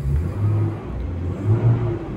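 A Mercedes W202 with a turbocharged M104 engine on motorsport engine mounts revs, its low, steady mid-range drone rising and falling in two gentle swells, close and continuous with no talk.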